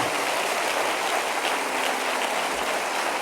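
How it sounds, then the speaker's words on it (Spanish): A church congregation applauds together in a dense, steady wash of clapping that fills the room evenly from start to end, with no voices standing out. "Dele otro aplauso al Señor"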